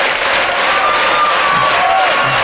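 A studio audience at a comedy show gives loud, continuous applause and cheering for the comedian Bamodi, a dense sustained roar with a faint tonal sound drifting through it.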